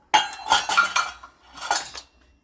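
A utensil scrapes and clinks around a bowl while banana bread batter sweetened with honey is mixed, with several bursts of close, busy clatter and a brief pause in between.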